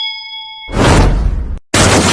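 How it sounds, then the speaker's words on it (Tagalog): A bell gives a clear ringing tone at a supermarket, then gives way to loud broadband rushing noise that cuts out briefly and returns. "Bell."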